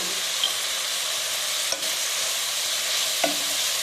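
Chicken masala with onion and tomato is stirred in a pan for a Kerala chicken perattu, giving a steady close sizzle with a couple of sharp spoon scrapes against the pan.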